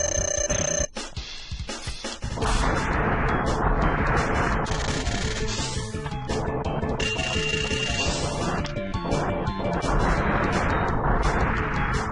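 Fire wave weapon firing in Mega Man X at Sigma's Fortress, a dense continuous roaring blast with bright ringing tones layered over game music and effects, sustained for most of the stretch after a brief opening burst.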